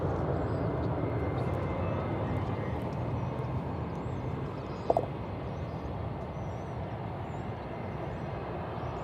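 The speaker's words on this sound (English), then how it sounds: "An Airbus A321." An Airbus A321 jet airliner at Dallas Fort Worth Airport, a distant steady broadband roar holding evenly throughout, with a brief faint click near the middle.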